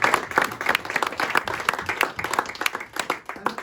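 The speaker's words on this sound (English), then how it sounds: "Can we have a round of applause" An audience applauds at a Christmas event held by a village history group, with steady, dense clapping throughout from a modest crowd.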